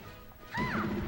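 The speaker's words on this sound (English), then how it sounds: "just runs right up to him and down smashes" A down smash lands in Super Smash Bros. Melee, a loud crunching hit effect at about the half-second mark with a falling tonal whoosh, during a grand finals match between Captain Falcon and Peach, with game noise underneath.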